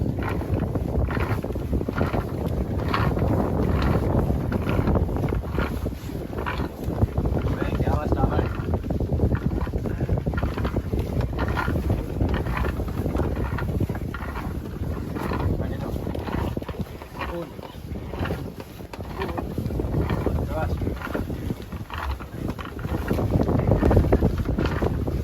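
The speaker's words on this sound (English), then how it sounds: "This is what it looks like if you attempt, say, for example, to hoist a sail at night." Sail hoisting at night aboard the INSV Kaundinya, a recreated historic sailing ship, under a constant roar of wind and sea noise with faint creaks and knocks and possible voices in the mix.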